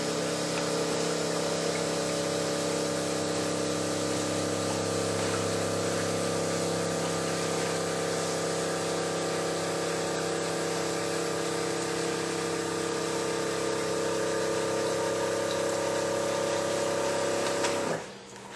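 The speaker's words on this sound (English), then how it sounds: "And then I'm going to flush again. Now when we refill this time, we just want to make sure it's at least up to the refill line." A toilet tank refills after a flush during a leak repair, with a steady hum of running water and a refill valve that continues evenly for about eighteen seconds before stopping abruptly at the end.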